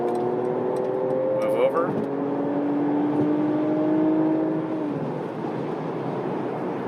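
A Mercedes-AMG CLS 53 4Matic+ in comfort mode accelerates at full throttle to pass a truck on an interstate, with rising engine tones under road noise and someone speaking briefly.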